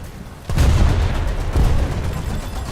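Naval cannon fire from a big gunboat in the War Thunder video game: two deep, booming shots about a second apart, loud and rumbling, with no talk.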